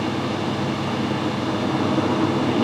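A reamer cutting metal on a lathe turning at 60 RPM gives a steady, loud, dense mechanical drone with no break.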